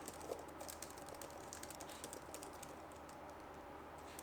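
Faint, quick tapping while typing a bookmark title in the forScore music app, soft irregular taps over a quiet room hum, with no speech.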